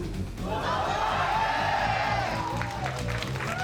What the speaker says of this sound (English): Fans still cheering him on here in the studio.